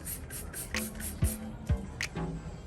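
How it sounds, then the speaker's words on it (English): Auto Finesse Aqua Coat, a hydrophobic spray-and-rinse product, is sprayed onto a wet car in a series of short hissing trigger bursts, close and moderately loud, with a couple of faint knocks between sprays. "we're gonna spray some Auto Finesse Aqua Coat, and this is their hydrophobic spray and rinse type of product."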